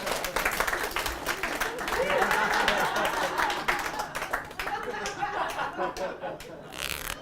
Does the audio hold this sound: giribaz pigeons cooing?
no